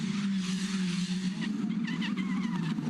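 Formula 4 race car at the Gold Coast, engine note dropping under braking with a brief tyre squeal from a locked wheel, heard from trackside at moderate distance.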